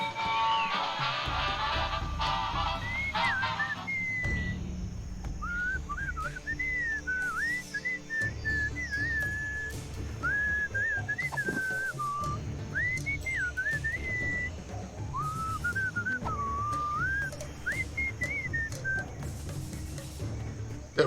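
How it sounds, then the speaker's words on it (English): A character whistles a wandering melodic tune in the Sam & Max Beyond Time and Space video game, clear and fairly close over background game music with occasional beeps, with a tonal phone-like sequence at the start. "we can get her to whistle"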